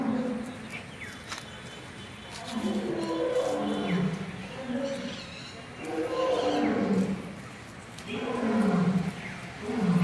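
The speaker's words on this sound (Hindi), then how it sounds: "शेर की दहाड़ने की आवाज़ आ रही है।" Lion at Alipore Zoo in Kolkata roaring in a series of deep, swelling groans that rise and fall in regular bursts, moderately near, with crowd noise in the background.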